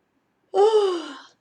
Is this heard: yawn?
yes